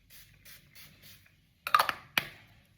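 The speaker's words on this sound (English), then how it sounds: "I'll use my primer spray. This is actually a finishing mist." Two quick bursts of a makeup finishing mist spray, one a short cluster of pumps and then a single puff, after faint rustling.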